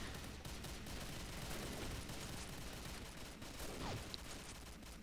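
Sustained gunfire from the online shooter Combat Arms, a dense unbroken stream of rapid shots lasting several seconds, quiet and somewhat distant in the mix.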